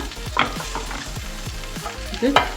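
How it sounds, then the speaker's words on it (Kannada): A spice mixture frying in a pan for traditional Holige Saaru, with close sizzling and a run of rhythmic stirring scrapes, a few sharper clinks of the utensil standing out. "ಇದನ್ನ ಹುರ್ಕೊಳ್ಳೋಣ, ಫ್ರೈ ಮಾಡ್ಕೊಳ್ಳೋಣ"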